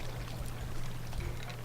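A waterfall in a video game, a steady rushing pour of water that runs unchanging from start to finish without any voices, set in a mining level with ore and lurking mobs.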